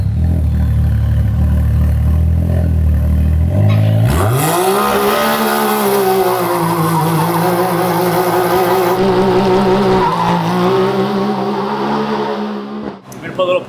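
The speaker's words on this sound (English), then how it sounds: "4-wheel drive burnout here to wheelie ramp to go up on the concrete" A four-wheel drive truck does a burnout on a backyard gymkhana course, its engine building from a rough idle to a sustained loud revving roar with tire noise and clatter for about ten seconds.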